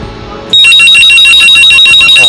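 A telephone ringer bell fed through an analog ringer amplifier box rings loud and steady after a brief quiet lead-in, its bright trilling tones sounding alone and continuous to the end.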